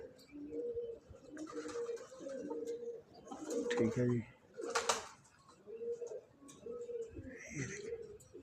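Several pigeons, large adults and a baby among them, coo in soft repeated low phrases close by, with someone talking over them at times.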